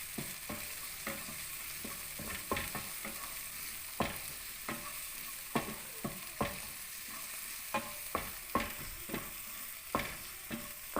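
A tomato omelette being stir-fried in a pan: a spatula scrapes and taps against the pan in repeated irregular strokes over a steady background sizzle, close by, with no talking.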